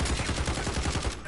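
Rapid gunfire in a PS4 shooter game, a quick burst of closely spaced shots firing in an even, loud rhythm for just over a second.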